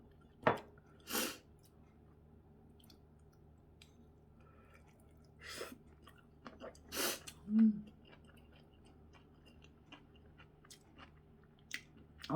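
Close, sparse chewing and mouth sounds while eating kimchi fried rice topped with egg, a few soft bursts separated by quiet pauses.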